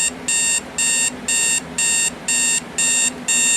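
A Spartus Neptune travel alarm clock rings in a steady pattern of eight evenly spaced, bright electronic beep bursts with short gaps between them, loud and close with no other sound.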